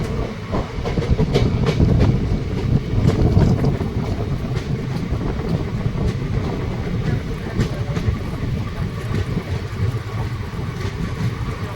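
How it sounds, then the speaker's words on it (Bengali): Tatanagar-Asansol Express pulling into Burnpur station in the evening, heard from aboard: a loud continuous low rumble of rolling wheels and carriage noise with faint rhythmic clatter and some wind buffeting. "সন্ধে প্রায় সাড়ে ছটার সময় আমাদের ট্রেন বার্নপুর স্টেশন পৌঁছে গেছে"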